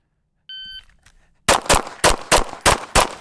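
A short electronic beep sounds first, then six sharp, loud gunshots crack in quick, fairly even succession during a fast shooting drill.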